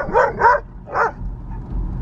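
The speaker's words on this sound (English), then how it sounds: "He's a barker." Free-roaming dog in a small Texas border town barks three times in quick succession, loud and fairly close, followed by low outdoor background noise and no talking.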